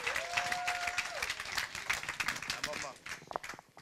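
A church congregation applauds the Lord together, a dense, steady wash of clapping that swells and thins over a few seconds, with voices mixed in and a brief sung or held tone near the start.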